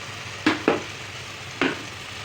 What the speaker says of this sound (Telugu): ఇప్పుడు చికెన్ వేస్తున్నాను ఫ్రెండ్స్.